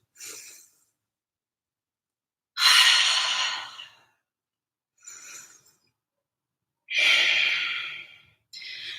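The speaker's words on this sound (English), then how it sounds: "Breathe in. Breathe out." Deep yoga breaths, slow audible inhales and long exhales alternating with silent pauses, close and breathy, with no speech over them.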